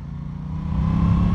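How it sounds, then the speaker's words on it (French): An Aprilia Tuono 660 parallel-twin motorcycle engine rumbles loud and close, its deep throbbing note rising steadily as the revs build, with no talking. "ce moteur, déjà, il a une sonorité géniale"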